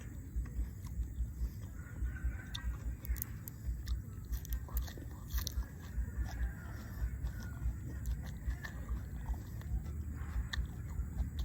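Crunchy chewing of a spicy mixed seafood salad with crisp squid and fresh vegetables, close and steady, with repeated bites and moist mastication running throughout and no talking.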